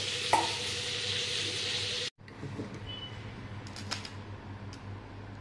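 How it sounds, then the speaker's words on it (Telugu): Apollo fish pieces frying in hot oil, a continuous close sizzle that cuts off briefly, then resumes with crackles and light utensil ticks. "ఇంకా ముక్కలు ఉన్నాయి కానీ కొన్ని ఫ్రై చేస్తున్నాము"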